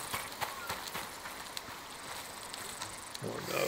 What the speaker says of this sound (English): Oh no, Terror Horse.